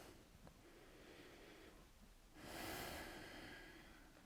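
During a shoulder and neck stretch, a single quiet, deep inhale through the nose swells for about two seconds, breathy and close, after a stretch of near silence.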